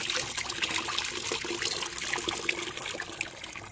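Rainwater pours from a gutter into a washing machine, a steady close trickling and splashing stream of water that runs continuously with no voices.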